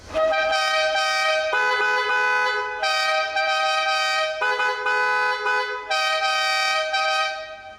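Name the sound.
two car horns alternating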